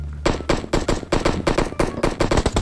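Rapid automatic gunfire from a first-person shooter video game, loud and close, firing in quick repeated bursts with brief gaps across the whole stretch.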